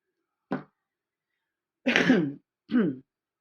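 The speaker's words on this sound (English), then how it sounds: "I've got a lingering cough and I just cannot get rid of it" A short cough followed by two throat clearings, close and isolated against silence.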